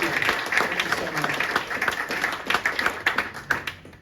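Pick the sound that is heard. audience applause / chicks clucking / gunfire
audience applause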